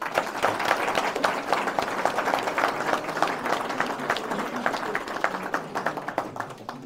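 Audience applause at a New Year's greetings ceremony in Léran, France: a steady round of clapping from a hall crowd, dense and even for the full stretch, with a faint voice underneath.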